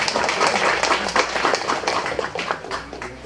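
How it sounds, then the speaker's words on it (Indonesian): Audience clapping at an award ceremony where tourism-village certificates are handed out, a dense, steady patter of many hands at close-to-medium range, lasting a few seconds without voices. "Tepuk tangannya,"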